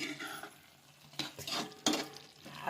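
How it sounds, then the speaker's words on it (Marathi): A spoon stirs soya chunk and potato curry in a pan, giving a few soft scraping and clattering strokes over a faint background. The strokes come in short irregular bursts at low volume, with no speech. "असं हलवून घ्यायचं आहे"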